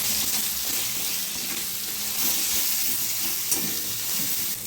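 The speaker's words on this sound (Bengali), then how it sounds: "ভালো করে মশলাটা আমি কষিয়ে নেব।" Ground cumin, turmeric and Kashmiri chili powder frying in oil in a pan, a loud, continuous close-up sizzle with faint stirring scrapes, no speech.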